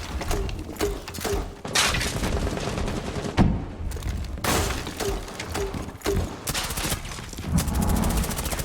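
Rapid bursts of automatic gunfire from a first-person tactical shooter video game, loud and close, with short pauses between sprays and sharp impact cracks.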